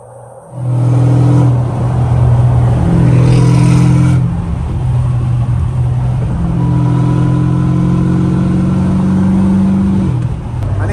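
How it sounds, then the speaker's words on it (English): Loud car exhaust drone and engine rumble during highway acceleration with the windows open, a steady low roar with rising harmonic tones and wind rush throughout. "when I open the windows, that's when you actually can hear the exhaust"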